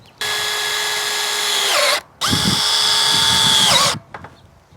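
Cordless power drill driving screws to mount a solar panel, two sustained high whining bursts of about two seconds each, the second with a deeper load as the screw seats, close and loud, no talk.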